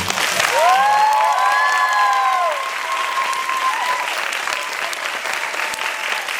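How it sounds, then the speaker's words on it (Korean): Concert audience applause at a live encore in a CGV cinema hall in Gwanggyo, a dense wash of clapping with shouts and cheers at the start that settles into steady, slightly softer clapping. "박수 한번 주시면"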